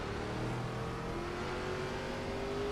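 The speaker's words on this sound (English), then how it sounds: "Watch your mirrors, there's a car approaching." An ARCA race car in iRacing closes in on an oval at Lanier, its engine a steady, loud drone whose pitch slowly climbs as it nears.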